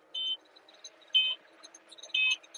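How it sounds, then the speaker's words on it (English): Three short electronic beeps from a crop sprayer controller in a tractor cab while spraying barley, evenly spaced about a second apart, moderately loud over a quiet background. "Why is it beeping at me?"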